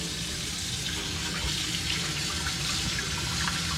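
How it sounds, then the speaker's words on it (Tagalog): Tap water runs steadily into a sink while a tanigue, Spanish mackerel, is washed in a home kitchen, a continuous close hissing splash that stays even throughout and is heard without talking. "Hugasan natin mabuti itong tanigi."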